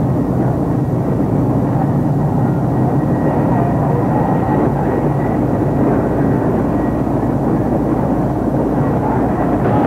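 Steady, loud rotor and engine drone of helicopters passing overhead in Beijing's city centre near Tiananmen Square, a continuous low rumble filling the whole stretch with no pauses.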